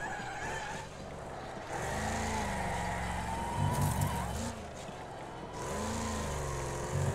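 Race car engines in the demolition racing game Wreckfest drone and rev with tire squeal and skidding, a continuous gritty roar with rising and falling pitch and a few bursts of scraping.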